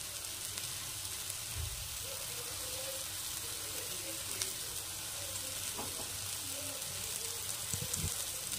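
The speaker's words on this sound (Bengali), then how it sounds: "ভালো করে মিশিয়ে আর 1 মিনিট রান্নাটা করে নেব" Egg and eggplant curry with fried onions sizzles steadily in a pan as it is stirred, a continuous low frying hiss with occasional scrapes and clinks, fairly faint and without talk.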